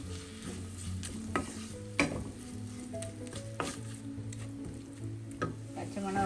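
Crushed shallots are stirred in a hot pan for a black pomfret curry, a soft, continuous sizzle with scraping strokes and occasional utensil taps against the pan, close up.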